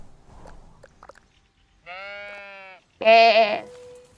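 Two sheep bleats in a video game ring out one after another, the second louder and wavering, over faint background clicks and rustles.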